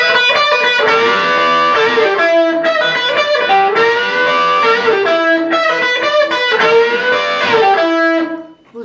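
A distorted electric guitar repeats the closing solo lick from the Black Crowes' "Jealous Again", with bent notes on the second string, loud and sustained, cutting off near the end.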